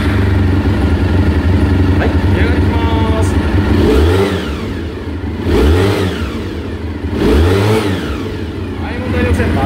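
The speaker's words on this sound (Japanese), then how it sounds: "ではね、エンジン始動いきたいと思います。" A Honda RVF400 NC35 motorcycle engine with an aftermarket Fat Daddy exhaust starts, idles and revs in repeated surges, loud and close, with someone speaking briefly over it.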